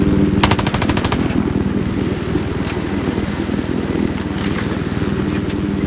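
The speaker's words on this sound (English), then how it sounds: "Shoot your gun and reload and see if you get ammo back." Rapid automatic gunfire in Battlefield 4, a dense burst of shots up front followed by continuous loud rattling combat noise with scattered further shots, no speech.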